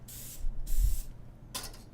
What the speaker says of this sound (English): I'm going to spray each side with a non-stick canola oil.